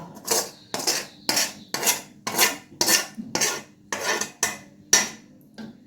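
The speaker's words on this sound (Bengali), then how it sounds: "আমি পুরোটা এবার ট্রান্সফার করে দিচ্ছি এই প্রেসার কুকারে" Mutton kosha is scraped from a wok into a pressure cooker with a metal utensil, about nine close, rhythmic rasping strokes with short pauses between them. No one speaks.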